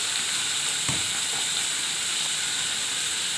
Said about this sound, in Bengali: পাঁচফোড়নটা দিয়ে দিলাম, পেঁপেটা দিচ্ছি, নুন দিয়ে দিচ্ছি,